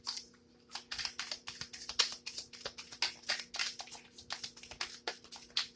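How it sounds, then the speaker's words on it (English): Tarot cards riffled and shuffled by hand up close, a rapid run of crisp papery flicks and clicks in quick bursts with short pauses between. "One more shuffle and that's it"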